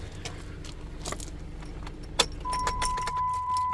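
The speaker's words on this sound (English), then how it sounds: "we're gonna grab those keys" Keys to a 2014 Jeep Patriot jangle and clink close by in quick metallic bursts, with a soft steady electronic chime starting partway through.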